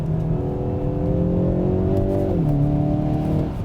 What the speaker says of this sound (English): And you hear that burble. That's that active sport exhaust.